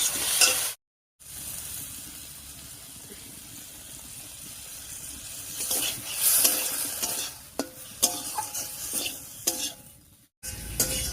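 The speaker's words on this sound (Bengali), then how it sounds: "বাটা মশলাটা দিয়ে একটু কষিয়ে নিয়েছি" Ground spice paste sautés with ridge gourd and potato in a pan, sizzling loudly and steadily while a utensil stirs and scrapes in repeated strokes. The sound cuts out briefly at the start and near the end.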